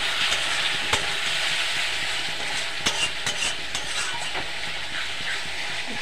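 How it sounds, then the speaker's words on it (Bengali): Spice paste being stirred with water in a pan while cooking an egg curry with spinach, a steady wet sizzling scrape with occasional sharper clicks of the spoon against the pan, continuous and close. "দিয়ে মশলাটা ভালো করে মিশিয়ে নেব"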